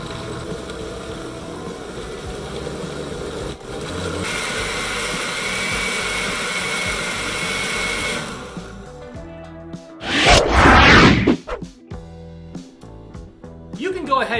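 A countertop blender whirs as it purees a chunky hot sauce of fresh herbs, pineapple, honey, salt and apple cider vinegar, a loud burst of motor noise rising over background music after a long stretch of quieter sound.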